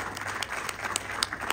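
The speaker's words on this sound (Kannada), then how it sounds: "ಒಂದು ಜೋರಾದ ಚಪ್ಪಾಳೆ ಬರಲಿ." Loud, steady applause from an audience at a film trailer launch event honouring retired Indian soldiers, dense clapping filling the whole stretch with a few sharper claps standing out.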